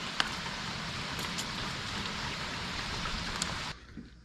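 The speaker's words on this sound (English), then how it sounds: "Yeah, there's half-inch hail in here." Half-inch hail drums steadily on a nearby surface as a dense, continuous patter, then cuts off abruptly near the end.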